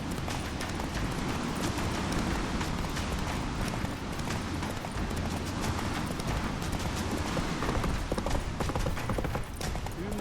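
Hooves of the horse Roach clip-clop at a steady gallop in The Witcher 3, a loud continuous drumming rhythm that fills the whole stretch with no speech over it.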